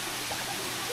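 Loud waterfall near Minca, Colombia, a dense continuous roar of rushing water filling the whole brief moment, close and steady with no voices.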